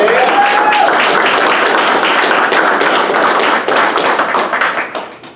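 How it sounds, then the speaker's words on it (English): Loud, steady applause from a crowd at a military graduation ceremony for civil engineer airmen, dense clapping sustained for several seconds before tapering off near the end. "I think these guys deserve one more round of applause."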